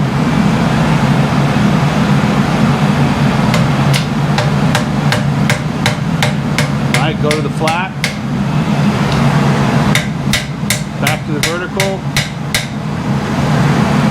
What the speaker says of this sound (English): now hammer straight down on the tip